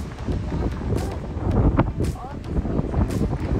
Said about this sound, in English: It gets pretty windy here.